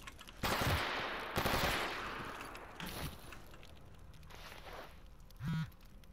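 Bursts of gunfire ring out in the STALKER game's zone, two loud rapid volleys close together followed by fainter, more distant shots, with no voices.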